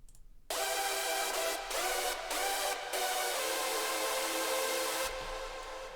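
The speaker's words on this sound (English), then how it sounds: "the lead with the harmonics sounds like this" A bright, buzzy hardstyle synth lead rich in harmonics plays a sustained melodic line alone, without chords or bass, with a few short gaps, loud and upfront.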